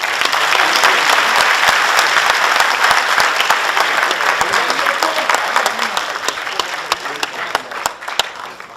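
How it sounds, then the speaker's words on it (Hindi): An audience at an Urdu children's play staged at a Ghalib institute in New Delhi gives loud, sustained applause, dense clapping with individual sharp claps standing out as it slowly tapers. "लिहाजा मैं ये भी चाहूँगा कि इन बच्चों की हौसला अफजाई के लिए एक ज़ोरदार ताली।"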